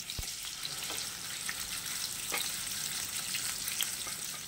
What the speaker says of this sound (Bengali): আমি নুন হলুদ মাখানো কই মাছগুলো দিয়ে হালকা ভেজে নেব